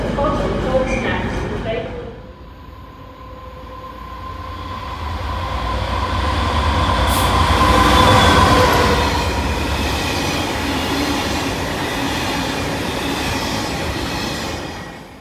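A train rumbles and clatters close by as it passes through a station, the noise swelling with faint squealing wheels, while a voice speaks over the station public address.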